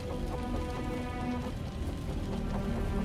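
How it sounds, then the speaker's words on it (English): Heavy rain in the Wuthering Waves game falls as a steady, dense hiss and patter, even and unbroken, with faint music tones in the background. "The rain's getting heavier."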